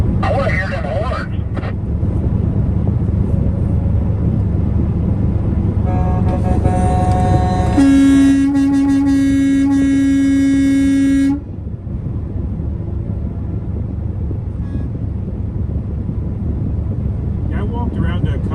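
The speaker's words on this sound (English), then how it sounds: "I wanna hear them horns." Truck horns blare at the People's Convoy, a long steady air-horn blast standing out over a dense, noisy crowd and traffic background, with other honks and commotion around it.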